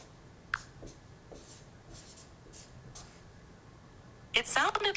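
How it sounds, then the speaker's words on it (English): A marker scratches and squeaks across paper in short, faint strokes, ending with a louder burst of quick scribbling. "It sounded like you listened to Christine writing down her answer"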